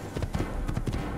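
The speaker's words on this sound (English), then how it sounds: "they hear a horse coming up behind them" A horse gallops up behind guards in Assassin's Creed, its hooves pounding in a quick, steady run at moderate distance for a short burst with no talk.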